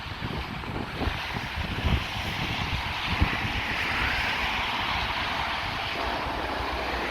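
Steady wind gusting across Blackpool North Promenade in cold, wet weather with snow and rain, a broad, constant rushing roar with buffeting thumps against the microphone and no voices.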